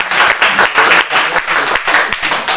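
Students in a classroom clapping for classmates after a physics presentation on pulleys, close and loud with a loose, rhythmic pattern of hand claps from a small group.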